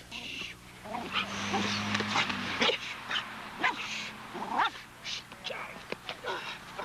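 Boxer dogs bark and yip in short bursts with high whimpers in between, close by, while a person talks over them.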